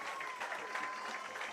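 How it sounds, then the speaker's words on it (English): Soccer crowd at a Kingston Stockade FC match applauds as a player gets back up, a soft, steady patter of clapping from a distant stand, faint and even throughout. "Applause to Cintron as he gets up."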